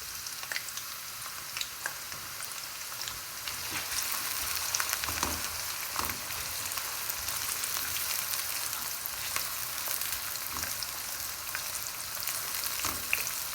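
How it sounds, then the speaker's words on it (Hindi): Onions fry in a mix of ghee and oil with a continuous, moderate sizzle and scattered small crackles and spits, with no voices. "अब हम अनियन को उतनी देर तक फ्राई करेंगे जितनी देर इनका कलर हल्का सा ब्राउन ना हो जाए।"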